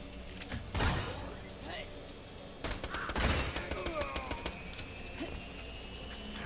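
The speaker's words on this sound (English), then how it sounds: "hip firing the sniper is not a good idea" A sniper rifle is hip-fired in the shooter Borderlands The Pre-Sequel. Two loud, booming shots ring out a couple of seconds apart, followed by lighter rattling and game effects, while a voice murmurs faintly underneath.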